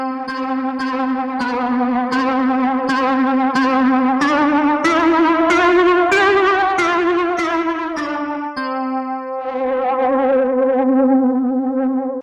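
An instrument processed by a Hologram Electronics Chroma Console multi-effects pedal at full mix, heavily distorted, playing a steady run of repeated notes, drenched in echo and modulation, then holding a long wavering tone.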